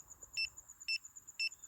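An electronic ghost hunting device, touched to a phone in an abandoned cemetery, gives three short, evenly spaced double-tone beeps over a faint constant high whine, fairly quiet, with no talking.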